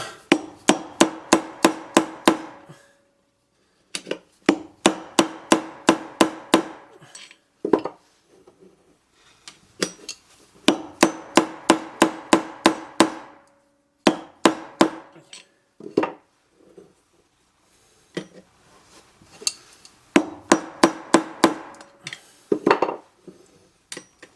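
Repeated hard metallic hammer strikes on a 2006 Mercedes C200 CDI front wheel bearing, delivered in fast rhythmic bursts with short pauses between, loud and close.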